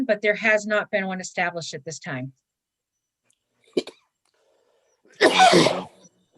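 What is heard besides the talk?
sneeze during a meeting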